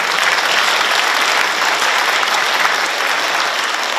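A crowd claps together at a Korean book launch event, producing loud, dense, even applause that fills the full four seconds with no talking.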